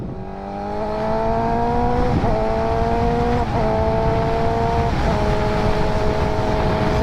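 A wrecked Suzuki GSX-R600 motorcycle ridden on a cold day, its engine whining steadily through the gears with a few distinct shifts, close and continuous under wind noise, no speech.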